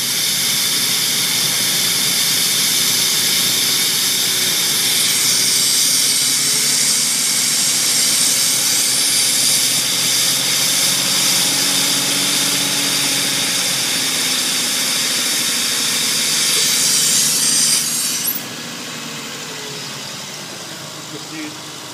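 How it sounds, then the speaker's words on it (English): A Nissan Maxima, third generation, idles steadily after a Seafoam treatment, its engine hum joined by a broad hissing rush that cuts off sharply near the end, leaving a quieter idle. "Just leave it, let it idle till it burns out"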